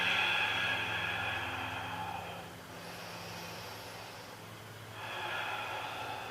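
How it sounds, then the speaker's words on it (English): A slow, deep breath taken during a beginner yoga pose: a long airy inhale, a quiet pause, then a breathy exhale rising again near the end, close and fairly soft with no speech over it. "Big breath."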